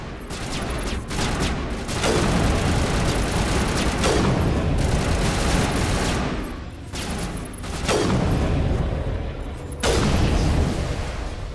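Gunfire in Mass Effect Legendary Edition on Insanity difficulty in a lab setting, heard as a loud, dense fusillade of repeated booming shots and bursts every couple of seconds over a constant roaring background, with no voices.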